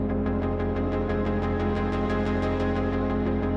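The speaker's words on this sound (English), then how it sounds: "I just love this Rev 2 synthesizer sound." A sustained Rev 2 synthesizer pad with rhythmic pulsing swells, playing steadily throughout at a moderate, even level with no voices.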